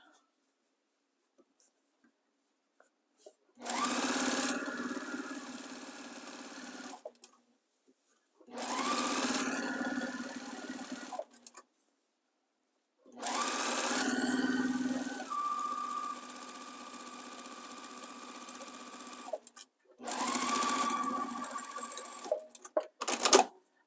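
A sewing machine stitching quilt rows in four bursts of several seconds each, a close, steady whirring hum separated by pauses of quiet.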